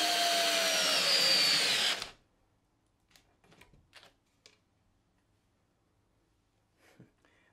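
A Ryobi cordless power tool runs at full speed in a brushed versus brushless test, a loud steady whine for about two seconds that cuts off abruptly, followed by faint clicks and handling sounds.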